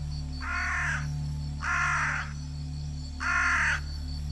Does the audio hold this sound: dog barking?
no